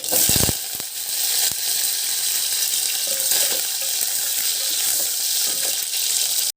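Mustard seeds, cumin, onion and curry leaves sizzling in hot oil for an Andhra-style fish curry, a continuous crackling hiss with a few sharp pops near the start.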